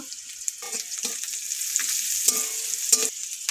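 Green chilies and a little turmeric crackle in hot oil in a pan: a bright, steady hiss of frying, punctuated by several short knocks and scrapes as a spoon stirs them, close and with no voices.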